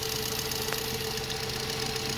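A Nissan Tiida engine runs steadily at idle during an air-conditioning compressor check, a constant close mechanical hum with a faint knocking texture and no talk.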